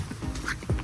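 Duck quacking once or twice near a patio on a rural property, brief and moderately close with light background noise.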